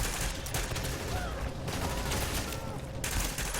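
Dense gunfire from a light machine gun and a sniper rifle in The Division shooter game, continuous loud rattling volleys with no pauses, heavy battle noise filling the whole stretch.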